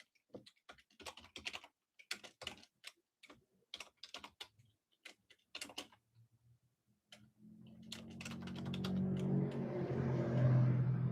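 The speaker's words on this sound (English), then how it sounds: "I just saw that as I was typing in Billy Carlson" Keys clatter on a computer keyboard in quick irregular bursts, close and fairly quiet, then give way to a rising engine-like rumble near the end.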